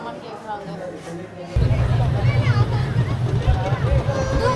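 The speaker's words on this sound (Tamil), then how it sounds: "இப்போதான் மோட்டர் போட் ஸ்டார்ட் ஆகிருக்கு" A motorboat engine starts at Pichavaram mangrove forest, its low rumble kicking in abruptly and then droning steadily beneath a busy crowd of chattering voices.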